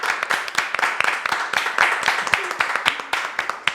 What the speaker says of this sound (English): let's give a round of applause for our guest, Roy Dubois.